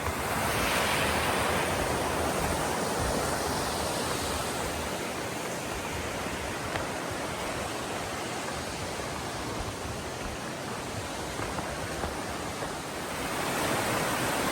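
A mountain stream runs beside a hiking trail, giving a steady, broad rushing wash of water that stays constant and fairly loud throughout, with no voices.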